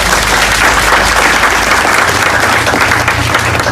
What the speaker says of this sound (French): Et si vous êtes content d'être là, applaudissez très fort.